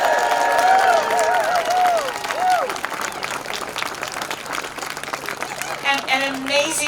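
A large outdoor rally crowd applauds and cheers in a sustained wash of clapping, with whoops and voices rising over it before it fades into scattered claps.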